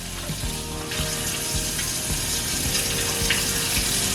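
Running tap water splashes steadily into a sink while hands are washed with soap, with soft rubbing and irregular splatter pulses over a continuous moderate flow, close and alone.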